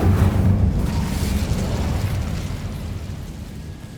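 Incendio fire spell cast in Hogwarts Legacy in an old, abandoned stairwell: a loud whooshing burst of flame that rumbles and then slowly fades away.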